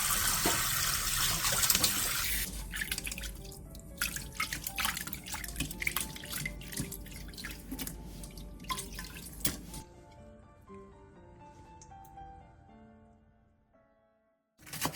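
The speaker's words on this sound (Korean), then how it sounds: "이 과정을 3번에서 4번 정도 반복해서 계속 씻어낸 뒤 물기를 빼서 준비해주세요." Washed cooking ingredients being rinsed under a running tap and drained, with a hissing stream splashing into a sink, then scattered drips and trickles that fade to near silence.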